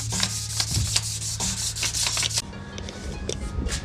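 A headlight lens being wet sanded by hand in a cross pattern: steady, rhythmic rubbing strokes, close and fairly loud, that give way to lighter scraping in the last second, with no voices.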